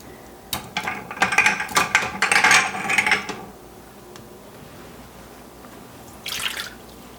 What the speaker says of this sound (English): To remove the lid, we'll just turn this green latch and move the sensor arm back, and we'll just simply move the lid over to remove and lift off.